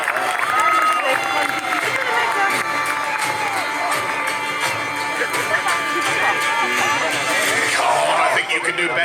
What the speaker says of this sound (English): Give a cheer now for the forces of King Henry, the Saxon defenders of southern England.